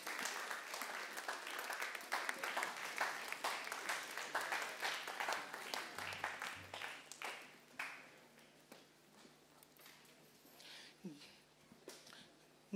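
A church congregation applauds to acclaim the Lord, dense clapping throughout that thins slightly toward the end, with scattered voices mixed in.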